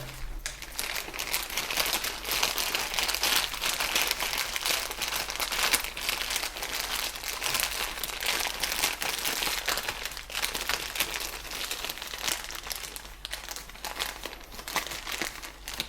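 A plastic bag is opened out and crinkled continuously up close while rooting a Benjamin fig by air layering, with dense steady rustling and crackling throughout and no talking.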